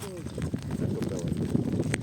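Hooves of a heavy Percheron mare, a branded working draft horse weighing nearly a tonne, clip-clop in an uneven series of dull thuds under steady nearby talk.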